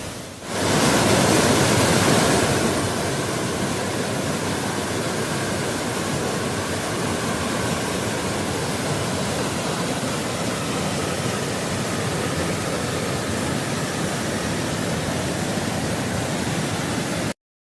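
Cathedral Falls in Transylvania County, North Carolina, a constant loud broadband roar of falling water heard from close by, steady and unbroken with no voices.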